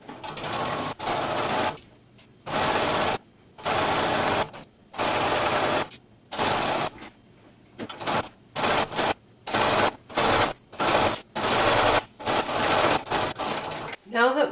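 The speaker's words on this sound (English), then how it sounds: "I'm going to use a zigzag on my sewing machine." A sewing machine zigzag stitching runs in repeated bursts, short and long runs of rapid stitching separated by pauses, close and steady in loudness.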